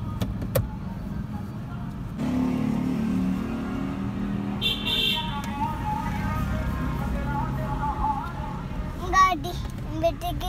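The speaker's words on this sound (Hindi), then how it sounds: "उधर गई गाड़ी गाड़ी गई" A car drives away with an engine hum that swells and fades, heard nearby under the chatter of a child and an adult talking.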